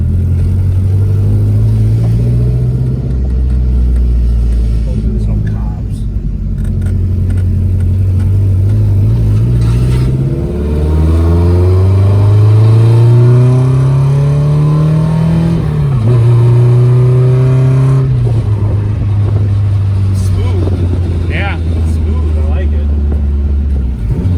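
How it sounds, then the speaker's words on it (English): A Nissan S14 engine revs hard to high RPM, its loud, close drone sweeping up in pitch again and again with brief drops between pulls, while people talk over it. "We're gonna try to test out the high RPM situation thing going."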